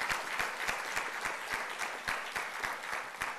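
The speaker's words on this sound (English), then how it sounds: "Let's give him a huge round of applause for what he is doing for us." Audience applause after a governor's remarks on ethical AI innovation to a SUNY audience, a steady clapping crowd holding an even level for the whole stretch with no voices over it.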